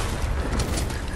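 A rocket blast in a shooter video game: a loud, dense rumbling boom filling the whole short moment, with low-end roar and scattered debris crackle and no voices.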